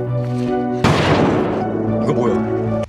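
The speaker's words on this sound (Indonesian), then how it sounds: "Kapten Yo terpaksa menembakkan pistol sebagai peringatan" A single sharp pistol warning shot bursts out against a steady musical drone, its noisy blast decaying over about a second before the tone carries on.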